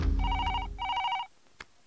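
A telephone bell rings in two clear bursts, loud and close, with a low hum underneath and a short click at the end, no one speaking.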